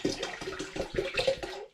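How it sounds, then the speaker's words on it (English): Spring water poured into a home-brew mix for a gooseberry bitter, a short steady gush of splashing liquid that cuts off after under two seconds. "I'm going to add another couple of litres of spring water into the mix."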